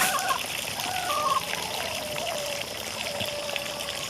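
Stored water, treated with bleach, running out of a container outdoors in a steady trickling stream that stays even and fairly close throughout, with no talking.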